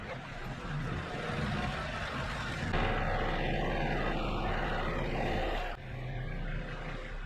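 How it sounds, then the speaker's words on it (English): A steady tractor engine drones nearby, idling and warming up with a rough low hum that continues throughout with slight shifts in tone. "tractor's warming up, so let's go"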